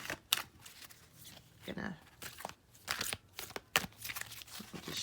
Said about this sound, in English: Shuffling up the deck